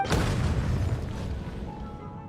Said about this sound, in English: Explosions can hurt people.